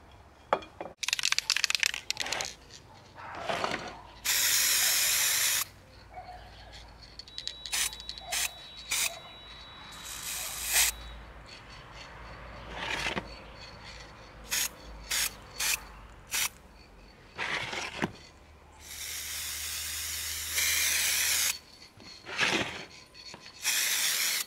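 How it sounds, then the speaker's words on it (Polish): Glitter spray paint hisses in short and long bursts onto old plastic grave candle lids, broken by clicks and rattles of handling between sprays. "I najpierw spray. A jeszcze mam brokat, żeby się ładnie błyszczały. Brokat w sprayu."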